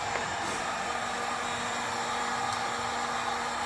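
A heat gun warming a plastic car bumper so the dented plastic can be reshaped gives a steady, loud blowing roar with a faint constant hum that runs unbroken throughout, with no talking.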